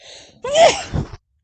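A single sudden human sneeze, close and loud. It starts with a brief intake and ends in a sharp burst, in a quiet room where people are talking on a podcast.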